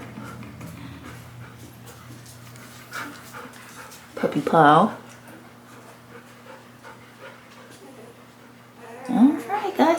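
Newborn Sherpador puppies pant softly and give a couple of brief whimpering bursts, close by, while a person talks over them.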